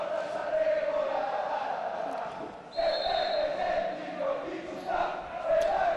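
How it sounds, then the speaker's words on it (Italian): Supporters of Sanremese chant and cheer at an amateur Seconda Categoria football match, a steady, fairly loud crowd roar with rising surges of chanting that carries on throughout and is never interrupted. "Sale ancora alto l'incitamento dei tifosi della Sanremese che probabilmente sentirete in sottofondo."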